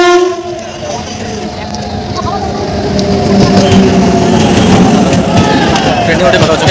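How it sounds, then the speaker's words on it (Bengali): A Sealdah local train pulls into a crowded station, its horn sounding at the start before a heavy rolling rumble of wheels and carriages builds and grows louder, with platform crowd noise mixed in. "ঢুকছে দেখো, শিয়ালদা লোকাল, শিয়ালদা এক্সপ্রেস"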